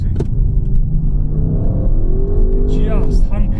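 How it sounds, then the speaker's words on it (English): Audi RS6 estate with its V8 exhaust note, a rumbling engine rising in pitch as it revs and accelerates, close and loud, with a brief sharp burst near the end. "just sign off on that exhaust note before we go"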